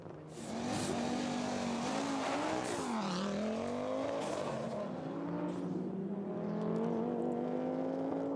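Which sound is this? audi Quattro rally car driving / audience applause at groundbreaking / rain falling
audi Quattro rally car driving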